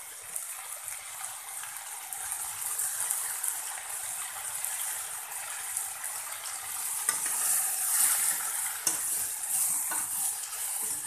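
Coriander leaves sauté in a pan for coriander chutney, giving a steady bright sizzle with soft stirring and scraping, close and continuous with no talking.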